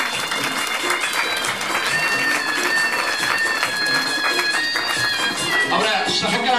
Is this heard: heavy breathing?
no